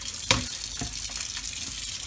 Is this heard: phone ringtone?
no